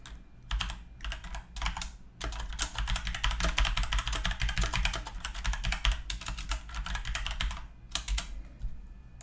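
Rapid typing on a computer keyboard, a steady clatter of keystrokes in bursts with brief pauses, close and clear with no voices.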